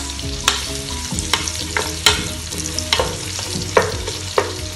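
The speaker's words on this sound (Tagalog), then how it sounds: "Pag po nangamoy na yung bawang, ilalagay ko na po yung sibuyas." Onions tipped onto garlic frying in a pan and stirred steadily, giving a loud continuous sizzle with a run of sharp scraping knocks at regular intervals and no voices.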